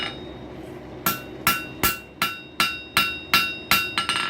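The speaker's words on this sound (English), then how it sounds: "The ball peen hammer is your friend" A 2-pound ball peen hammer forging a wrench rings out in eight or nine sharp metallic blows at a steady, quickening pace, clear and close with no talking.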